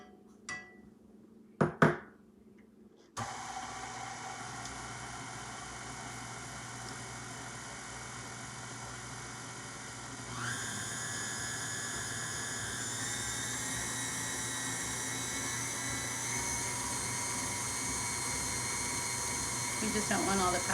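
An electric mixer beats royal icing on high speed, a steady loud whirring drone that starts abruptly after a few brief clinks and rises slightly in pitch partway through, running continuously to the end.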